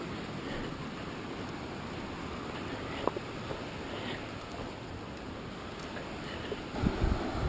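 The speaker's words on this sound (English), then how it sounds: "That sounds like a lot of water" Rushing water of Russell Creek on the Pacific Crest Trail near Jefferson Park: a steady, broad roar of snowmelt torrent throughout, with a couple of faint knocks and some wind buffeting near the end.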